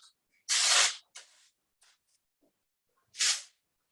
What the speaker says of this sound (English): Let me get texture spray.